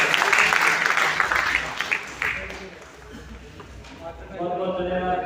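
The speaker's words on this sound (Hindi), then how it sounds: "तालियों के साथ स्वागत कीजिए।" Applause from an audience at a library event in Haryana, welcoming a guest onto the stage. A loud burst of clapping fades over the first seconds, then voices take over beneath the dying claps.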